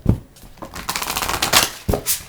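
A fairly new, still-stiff tarot deck being shuffled by hand, close up: quick riffling and slapping bursts of cards with short pauses between.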